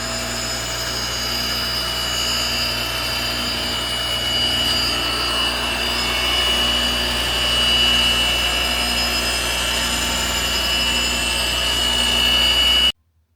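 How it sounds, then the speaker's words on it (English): A reel grinder refaces the bed knife of an Allett CC348E reel mower with a steady, loud grinding rasp. It runs evenly with no voices for about thirteen seconds, then stops suddenly. "I'm refacing the bed knife and I really don't want to remove a ton of material."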